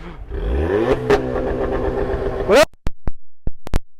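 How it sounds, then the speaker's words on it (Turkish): A VW Jetta engine revs hard and holds against the rev limiter around 4500 rpm, stuttering at the cutoff, then the throttle snaps shut and a few sharp exhaust pops and crackles follow, loud and close. "4500 devirde böyle kesici yapan jetta varsa gelsin"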